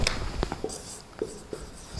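A pen scratches across a surface in short, quick strokes, soft and close, with light taps and pauses between marks and no talking over it.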